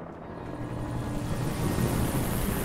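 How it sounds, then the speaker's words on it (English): A helicopter in the video game Alan Wake. Its steady rotor chop and engine roar fill the whole stretch and grow slightly louder as it comes closer, with no talking. "Helicopter?"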